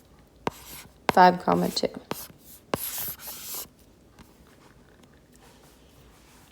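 A pen writes answers to a math problem on paper in short, scratchy strokes, a few quick bursts close by, with a voice briefly speaking between them before quiet returns.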